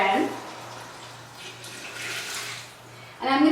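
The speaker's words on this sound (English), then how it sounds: "So I'm going to put my water in." Water poured from a vessel into a stockpot of chicken carcasses, feet and head for bone broth, a steady close splashing rush lasting a few seconds before it tapers off, with a brief voice at either end.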